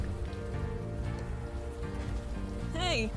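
Steady rain patters on a surface throughout in a video game, with a brief high, wavering tone near the end.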